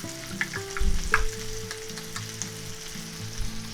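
Butter and minced garlic sizzle in a pan, a close, steady crackle with a couple of louder bumps and stirring knocks early on.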